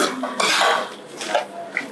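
A pot holding boiling goat meat is checked over an outdoor fire, with close metallic clanks and scrapes of the lid and pot, and a bubbling hiss underneath.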